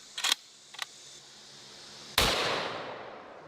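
A single loud gunshot from a heavy-recoil gun, fired by a 375-pound strongman, cracks sharply and rings out in a long decaying echo, preceded by two faint clicks.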